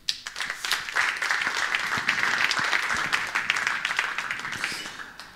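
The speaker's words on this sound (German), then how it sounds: "mit einem kleinen Applaus" A conference audience applauds to welcome a speaker at a congress on European digital policy, steady dense clapping filling the hall for several seconds before fading out at the end.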